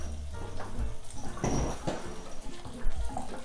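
Hot water runs and splashes unevenly from a water heater tap, a steady gurgling pour with no talking.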